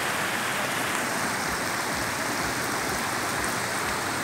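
Floodwater rushes down a main street in Caiubura, Bertioga, turned into a river, a steady broadband hiss of flowing water, close and constant with no pauses.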